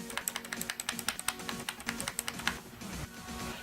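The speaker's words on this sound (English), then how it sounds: "Here is a single key sound test." Single keys tapped one after another on a RockSoul RSKB-00115 rubber dome keyboard give soft, rapid, evenly spaced clicks close up, with no voice over them.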